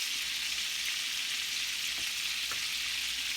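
Lamb chops topped with rosemary sizzle steadily in a pan, a continuous close hiss with a couple of faint clicks and no talking.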